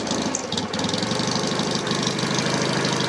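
A 1963 BSA Rocket Gold Star motorcycle engine runs steadily just after a kick-start, a loud, close, even thumping beat with a knocking edge that holds without letup.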